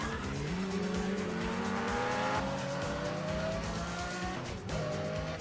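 A Lamborghini V12 engine in a driving video game revs steadily, its pitch climbing in a continuous loud drone with tire squeal mixed in, no voices.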